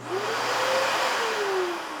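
A shop vacuum in a woodworking shop spins up after a Bluetooth remote switches it on, a rising motor whine settling into a steady roaring hiss, close and alone.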